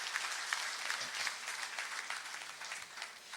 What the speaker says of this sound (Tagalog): Palakpak po natin ang ating lungsod.